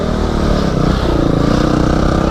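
A dirt bike engine revs loud and close, a steady buzzing drone held without a break.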